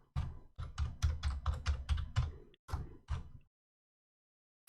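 Password being typed on a computer keyboard: a close, quick run of crisp keystrokes in uneven bursts, ending in a couple of separate taps before silence.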